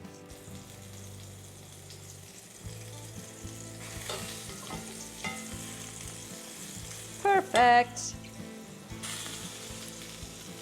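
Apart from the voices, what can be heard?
chicken breasts sizzling in a pan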